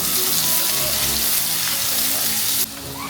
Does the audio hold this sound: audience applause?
no